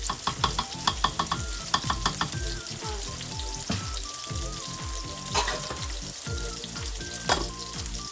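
Vegetables frying and being stirred in a pot on the stove while cooking ngaingai with fish: a steady loud sizzle with repeated scraping strokes of a spoon, close by and with no talking.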